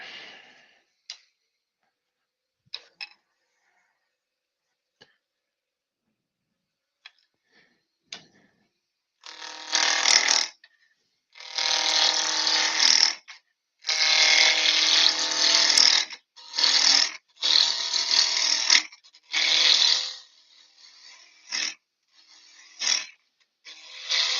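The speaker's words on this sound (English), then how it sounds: "Spindle roughing gouge." A spindle roughing gouge cuts wood on a lathe in a workshop, giving scattered light ticks at first, then long, loud, steady bursts of cutting separated by brief pauses, close and with no talk.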